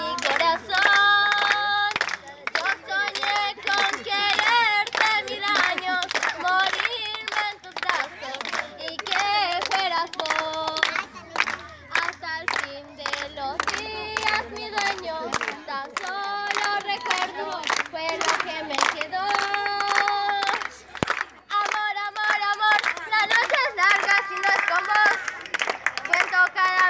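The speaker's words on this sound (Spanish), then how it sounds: "¡Fuerte el aplauso!" A studio audience claps along on a televised Peruvian neighborhood singing show, steady rhythmic hand claps running the whole time under loud music and singing.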